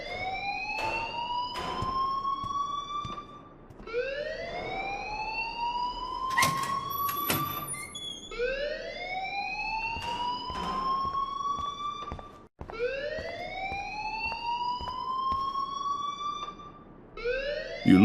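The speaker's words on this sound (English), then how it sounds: "please turn off that alarm since that's your job" A loud, continuous electronic fire alarm in the video game Life is Strange, wailing in repeated rising sweeps that cycle every few seconds with brief breaks, alone without talk.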